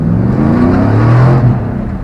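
A tuned Chevrolet truck engine with raised shift points and a harder-shifting tuned transmission accelerates hard, its loud, steady drone rising in pitch, with no talk over it.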